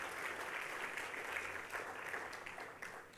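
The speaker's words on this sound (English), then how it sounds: "so please give a round of applause for all the spouses, please." A room of guests at a gala dinner gives a steady round of applause, even and sustained clapping heard at a moderate distance, fairly faint, with no speech over it.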